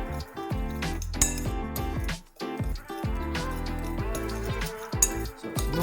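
Spice rub for beef brisket, with cayenne pepper, being mixed in a bowl: a steady run of clinking and scraping of utensil against bowl, loud and close, with a short pause near the middle.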